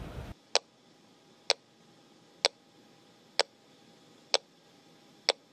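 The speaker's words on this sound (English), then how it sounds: "So this is the pinger right here, and we're just going to play for people the noise it makes." An underwater locator pinger from a flight data recorder emits six sharp, evenly spaced electronic pings about once per second, ticking like a metronome against a quiet background.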